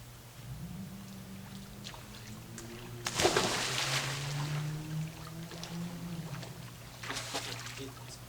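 Someone takes a swig of Leinenkugel's rye beer with a close, brief sloshing gulp midway, followed by a few softer swallowing sounds against a low steady hum.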